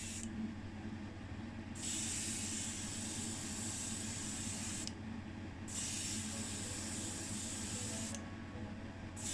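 Aerosol spray paint applied in silver coats to a model VW Beetle Baja Bug: three long, steady hissing bursts, close and loud, separated by brief pauses.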